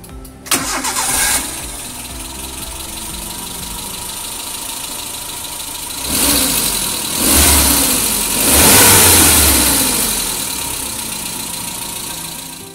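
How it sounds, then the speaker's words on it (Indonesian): A 1999 Suzuki Carry Futura with a 1600cc engine cranks and fires up close by, settles into a steady idle, then revs loudly in several rising surges toward the end, with no talking. "kita pengen denger dulu suara mesin 1600cc itu kayak apa sih"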